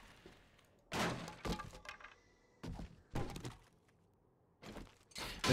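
Loot boxes smashed in the video game 7 Days to Die, several sharp cracking and breaking impacts in irregular bursts with brief quiet gaps between, close and loud.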